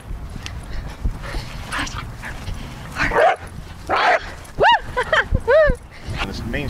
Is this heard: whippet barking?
yes